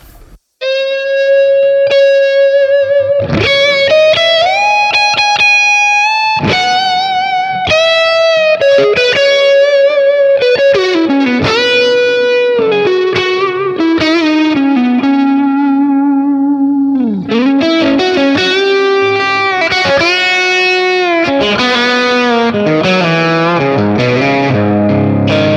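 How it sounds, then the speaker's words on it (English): Clean electric guitar run through a Vox TB50 amp model with heavy reverb, playing a mellow single-note melody with sustained, ringing notes, steady and close for the whole passage with no talk. "that's a Vox TB50 I like to use, also with a lot of reverb for some mellow stuff"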